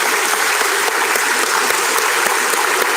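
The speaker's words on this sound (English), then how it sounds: "Please give these students a round of applause." An audience at a fifth-grade moving-up ceremony claps steadily and loudly, a dense, continuous wash of many hands throughout, with no talking over it.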